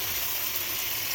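Ginger garlic paste frying in a pan for chicken curry, a brief dense sizzle that stays steady and close, with a small scrape at the end.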